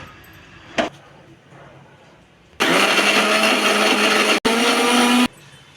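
A mixer grinder blending a raw mango and coconut chutney with a little water: a loud, steady whirring motor runs for about three seconds, cuts out briefly, restarts, then stops, after a faint clack and quiet room tone.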